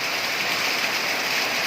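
Heavy rain pours steadily and loudly at close range, a dense continuous hiss of drops striking surfaces with no gaps and no voices.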